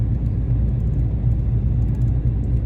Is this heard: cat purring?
no